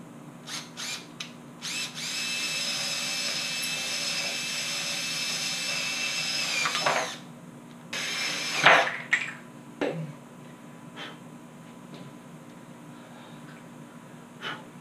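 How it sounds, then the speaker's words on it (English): Power drill drilling out the king pin of an Independent 215 skateboard truck: a sustained whirring buzz for several seconds, then short bursts, sharp clanks and scattered knocks as the drilling stops and starts. "I'm gonna try just drilling it out."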